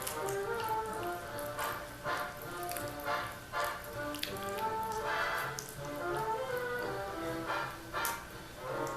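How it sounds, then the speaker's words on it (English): A thick aloe vera and honey mixture is stirred, giving soft, wet, sticky squelching and dripping sounds in a steady, continuous rhythm, close but quiet. "I'll be stirring this just to make sure that everything gets mixed in"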